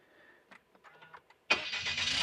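Suzuki Every kei van engine cranking briefly and catching, then settling into a steady loud idle close by, preceded by faint clicks and shuffling.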